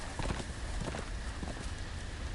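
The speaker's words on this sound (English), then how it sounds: "Goddamn horse." A video game horse's hooves beat in a quick, steady clip-clop rhythm that sits close and fairly loud, with no talking over it.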